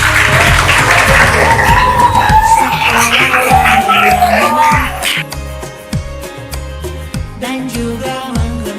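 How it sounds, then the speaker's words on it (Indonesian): An audience claps and cheers with whoops and yells for about five seconds, loud and dense, before music takes over and the crowd noise drops away. "Tepuk tangan untuk kita semua."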